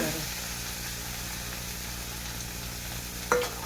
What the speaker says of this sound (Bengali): দেখুন রসুন কুচি আমার লালচে ভাজা হয়ে গেছে